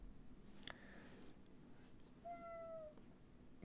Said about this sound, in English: My cat will meow.